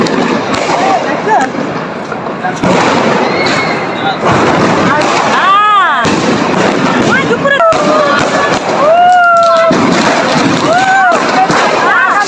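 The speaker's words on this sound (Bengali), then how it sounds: "আমাদের আশেপাশে বিভিন্ন ছাদ থেকে বিভিন্ন আতশবাজি ফুটাচ্ছে" New Year fireworks set off from rooftops around a street corner crackle and bang, with whistling rockets rising and falling and repeated bursts at close to middle distance, while people talk nearby.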